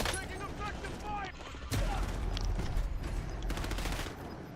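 MechWarrior 4 combat gunfire, with bursts of rapid shots and heavy impacts over a dense, noisy background and a sharp loud hit partway through.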